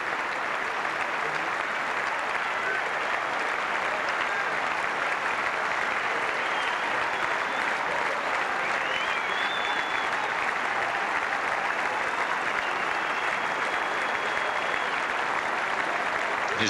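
A tennis crowd applauds Stefan Edberg's farewell in a steady, dense roar of clapping that holds at full volume throughout, with no breaks and no speech over it.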